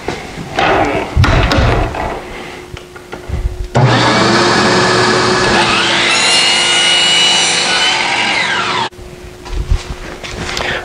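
Power drill countersinking pocket holes for corner block screws while building a square white corner work table, a loud steady whirring run of about five seconds that rises in pitch, with shorter tool bursts before and after.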